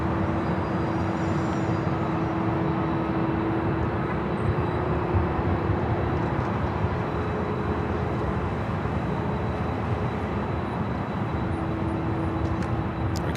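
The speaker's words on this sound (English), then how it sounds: "The Queen still waits to cross over. Delta A319 up and next." A Delta Airbus A319 jet taking off at LAX airport produces a steady, loud, broad roar with a faint drone, unchanging and unbroken for the whole stretch, heard from a distance.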